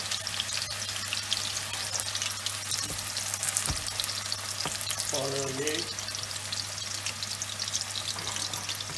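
Steady crackling sizzle of four minced-meat kebabs frying in hot oil at normal heat, with a brief voice speaking partway through and a low mechanical hum underneath.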